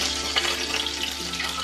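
Chicken breast fries in a pan on low heat, giving a close, continuous sizzle with soft crackles and no voices over it.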